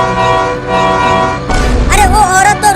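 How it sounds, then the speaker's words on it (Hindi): A tempo's loud, sustained horn blares continuously, then a second burst of honking with a rattling low rumble comes in near the end. "जल्दी टेम्पो का हॉर्न बजाओ।"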